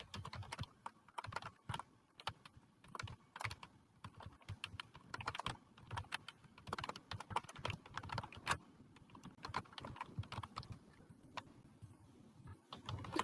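Steady, close keyboard typing as Python code is entered on a computer keyboard, with quick irregular key clacks running continuously, no talk over it.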